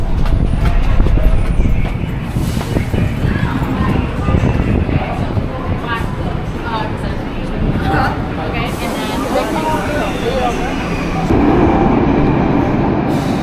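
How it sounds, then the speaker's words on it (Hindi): Loud rumble and screech of a subway train in a New York City subway station, with rail noise and a voice talking over the din. "अभी मैं एंटर हो रहा हूँ न्यूयॉर्क सिटी का"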